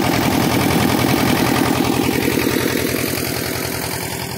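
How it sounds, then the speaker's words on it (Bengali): A generator supplying electricity to pumps at a rail construction site runs with a loud, steady, rapid engine chug close by, easing slightly in level toward the end. "পাম্পের ইলেকট্রিক সাপ্লাইয়ের জন্য এই যে জেনারেটরটা এখানে কিন্তু আনা হয়েছে"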